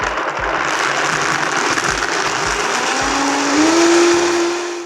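A high-speed blender roars loud and steady, its motor pitch climbing from low to high speed in one continuous run with no voices.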